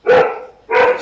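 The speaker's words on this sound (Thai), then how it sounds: "นี่ต้องขออภัยเสียงเป็นสุนัข" A dog barks twice, loud and close, each bark a full, drawn-out woof with a short pause between them.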